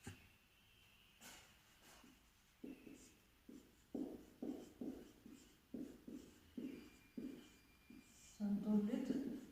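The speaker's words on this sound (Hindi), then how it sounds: "ये मैं यहाँ लिखती हूँ" A pen or chalk writes by hand in a steady rhythm: about a dozen short scratchy strokes, each half a second or so apart, close and moderately loud, ending in a denser rustle.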